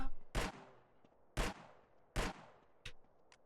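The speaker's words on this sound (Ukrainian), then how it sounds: "Так, він почав стріляти." Four sharp gunshots from a pistol in a mobile GTA game, evenly spaced about a second apart, with a quieter pop at the end.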